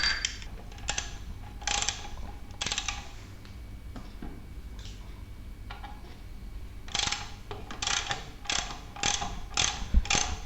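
Spanner tightening the axle nut on a bicycle wheel during assembly, giving repeated close ratcheting clicks in bursts with short pauses between them.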